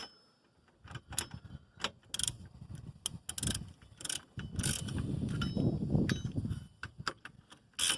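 Ratchet tightening the bolts on a 2009 Toyota Yaris rear drum brake backing plate, with bursts of close mechanical clicking and rattling at an uneven pace across the span, and no talking.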